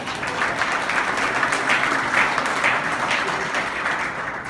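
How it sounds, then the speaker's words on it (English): An audience claps in a steady, full round of applause that swells slightly in the middle and eases off toward the end, with many hands blending into a dense patter and no talking over it. "Well, then clap."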